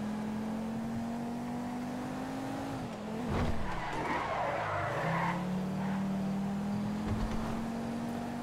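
A fast car in GTA 5 drives hard with a steady engine drone, then its tires screech in a loud skid midway before the engine pulls back up and carries on.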